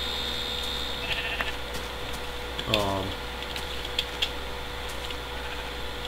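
A single sheep bleats once in Minecraft, a short wavering call heard fairly close over a steady background hum.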